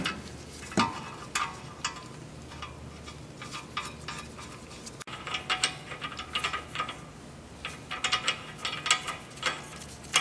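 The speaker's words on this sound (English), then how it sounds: "Going to reinstall the two 19mm nuts and then torque those down to specification" Hand ratchet clicking in quick bursts while tightening two 19mm nuts on a Honda Civic front wheel hub, close and fairly quiet, with pauses between strokes.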